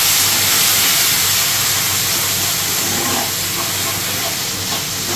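Ground spices such as turmeric, cumin and coriander frying in hot oil, a loud continuous hiss and sizzle that holds steady and close throughout.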